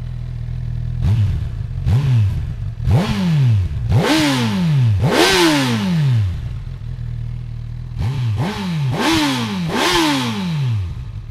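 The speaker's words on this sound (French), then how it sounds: "Je vais attendre qu'elle chauffe un petit peu et après je vais mettre des petits coups de gaz." A 2018 Honda CB1000R motorcycle engine idles while warming up, then takes a series of sharp throttle blips, each a loud rising rev that quickly falls back. There are about five in a row, a short pause, then three more, all close and with no talking.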